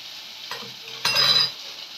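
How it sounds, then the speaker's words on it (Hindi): Mixed vegetables with garlic paste sizzle and crackle in a hot pan, with two brief stirring scrapes, the second louder and longer, over a steady frying hiss. "अभी हमको इसे हिलाना है"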